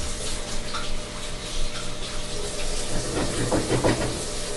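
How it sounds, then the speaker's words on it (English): Running water from a tap splashes steadily while hands are lathered and scrubbed with antibacterial soap, a continuous close hiss with some rubbing and splashing near the end. "I'm gonna wash my hands with some antibacteria soap."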